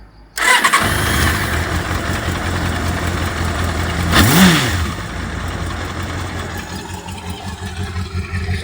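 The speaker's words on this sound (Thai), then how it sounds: "ปิดนะฮะเปิดใหม่นะครับสตาร์ท" A chopper motorcycle engine cranks and fires up after a brief silence, then settles into a loud, close, steady idle with a short rev swell partway through, running alone without talk.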